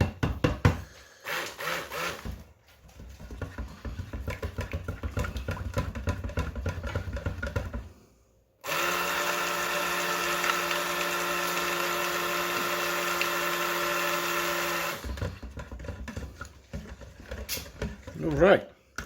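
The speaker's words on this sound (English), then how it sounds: "Use my stick blender." Knocking and scraping sounds come first, then a stick blender whirs steadily for several seconds at a constant pitch while mixing orange zest cold-process soap batter, before stopping, with clattering afterward.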